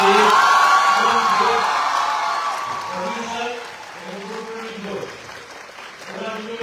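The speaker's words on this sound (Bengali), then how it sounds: "একটা খুব জোরে হাততালি দরকার" A cinema hall audience applauds and cheers, a loud burst of clapping and whoops that fades over a few seconds while someone speaks over it.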